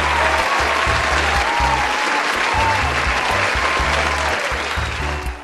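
Dense, steady clapping from a crowd holds throughout over a low, rhythmic musical pulse, loud and continuous.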